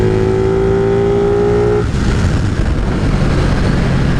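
Ducati Panigale 959 motorcycle engine running steady and loud on a demo ride, with a smooth tonal drone that shifts as the revs drop and blends into rushing wind noise.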